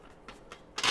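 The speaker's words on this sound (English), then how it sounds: "I'm going to give 2 additional shuffles." Tarot cards are shuffled by hand in soft, evenly spaced papery flicks, ending in a louder riffling burst.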